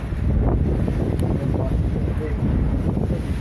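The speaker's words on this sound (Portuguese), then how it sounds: "Da fúria do vento, velho." Strong wind blows steadily over the Amazon River, a loud continuous roar with gusty rumbling and buffeting on the microphone throughout.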